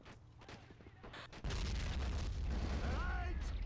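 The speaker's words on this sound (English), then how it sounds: "I'm mortaring their positions right now" Mortar fire in the World War II game Men of War: Assault Squad 2, heard as a heavy low boom and rumbling blast that rolls on after a quieter stretch, with other game sounds mixed in.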